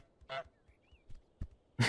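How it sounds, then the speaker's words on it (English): Goose honks from the video game Untitled Goose Game: a short nasal honk near the start, then a few faint soft blips and a louder burst of noisy squawking at the end. "Honk like your life depends on it."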